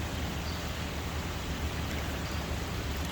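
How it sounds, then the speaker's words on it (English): River rapids running about half a foot above normal level make a constant, broad rushing roar in the background, steady and unbroken. "But you could probably hear the rapids in the background."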